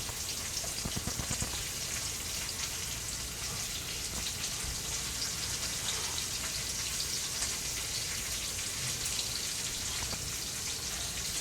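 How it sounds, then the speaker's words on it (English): Potatoes sizzle in hot oil for a green bean and potato curry, a steady, loud, dense crackle and hiss that runs unbroken from start to finish with no talking. "Yes, you hear that hot oil."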